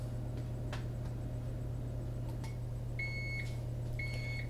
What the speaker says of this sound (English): we got a little beep going here